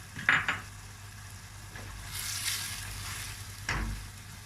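Tomatoes and chopped green garlic fry in a pan with a soft, steady sizzle, marked by a few sharp clinks and scrapes of a utensil stirring against the pan.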